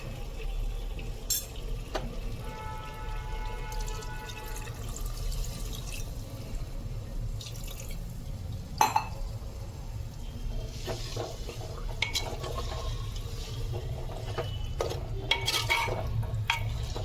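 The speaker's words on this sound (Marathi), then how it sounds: "थोडं याच्यामध्ये पाणी घालून घेऊया आपण." Water goes into a pot of matka chicken and gets stirred, a low bubbling wash broken by sporadic clinks and scrapes of a spoon against the vessel, no one speaking.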